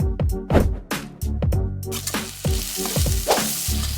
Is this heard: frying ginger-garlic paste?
yes